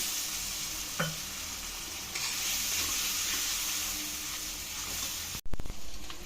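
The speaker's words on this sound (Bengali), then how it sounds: "এখন দিয়ে দিচ্ছি একটু জল, মশলাটা কষাবার জন্য।" Ground spice paste sizzles faintly in a pan as a little water is poured in, with a soft steady hiss, an occasional stir and a brief sharp clatter near the end.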